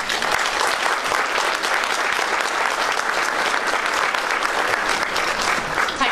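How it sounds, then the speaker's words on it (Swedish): An audience applauds to welcome the head of a radio theatre onto the stage, with dense, steady, loud clapping that fills the whole stretch without a break. "Applåder!"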